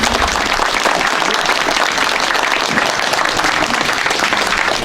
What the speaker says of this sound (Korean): 박수로서 환영해 주시면 고맙겠습니다.